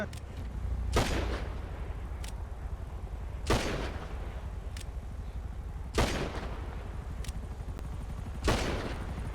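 Gunfire in a GTA role-play session, heard as four loud, widely spaced single shots about two and a half seconds apart, with a few fainter distant cracks between them over a low steady background hum.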